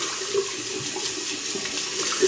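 Cold mountain water runs from a tap to rinse a razor and shaving gear, a steady close splashing rush into a sink with faint trickling variations throughout.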